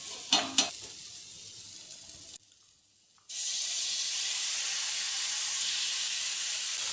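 Browned onions and raw chicken are cooked without oil in a pan, starting with a few stirring clatters and scrapes. After a short quiet gap comes a loud, steady hissing sizzle with no speech.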